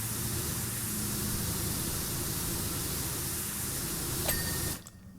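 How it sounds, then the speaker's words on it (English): A pressure washer sprays water nonstop inside a Solar System exhibit in PowerWash Simulator 2, a loud, steady hissing rush that holds unbroken for several seconds and then cuts off abruptly. "Just spray a crap ton of water in here."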